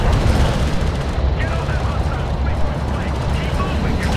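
Sustained gunfire and explosive battle noise from a Homeworld: Deserts of Kharak combat scene, loud and dense throughout with radio-style voices talking over it.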